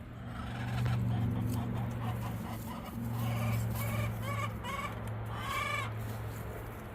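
Wyandotte chickens cluck and squawk in a flock, repeated calls in short bursts over a steady low hum, close and fairly loud, with no talk.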